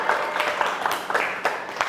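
Brief classroom applause in a chemistry lesson on rusting iron, a burst of scattered hand claps from students filling the short moment with no talk over it.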